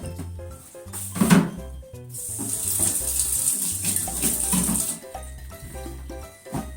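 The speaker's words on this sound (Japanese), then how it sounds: "切った野菜を洗いました" Tap water runs over freshly cut vegetables, including carrot, in a kitchen sink, a steady close hiss and splash with a few clunks and knocks of handling.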